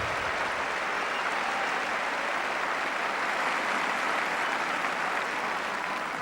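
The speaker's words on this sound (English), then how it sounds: "And that applause tells its own story of the epic quality of this match." Steady, dense crowd applause fills a Wimbledon centre court during the fifth set of the 1977 men's singles semi-final between Bjorn Borg and Vitas Gerulaitis, loud and unbroken throughout with no voices over it.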